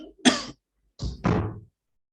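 A man coughs twice in quick succession, close and fairly loud: one short harsh burst, a brief pause, then a longer rougher cough, heard alone in a quiet room.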